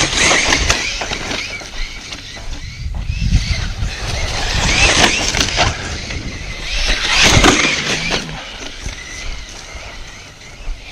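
An Arrma Senton 3S electric RC short-course truck drives over rough ground outdoors, with motor whine, surging bursts of acceleration and tire scrabble that come and go at moderate loudness, without speech.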